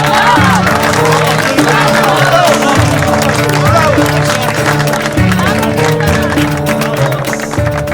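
An audience applauds and cheers in a Turkish TV drama scene, with loud, dense clapping and cheering throughout, blended with music underneath.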